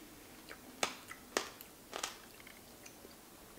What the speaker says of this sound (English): the seeds are kind of crunchy